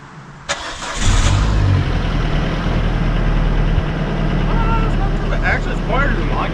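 A car engine cranks and catches with a sharp start, then settles into a steady, loud idle with a low rumble, while people talk over it in the background.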